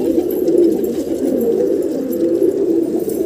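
Low, rolling coos come from a nearby round-headed pigeon, a steady throaty burble that carries on alone for several seconds.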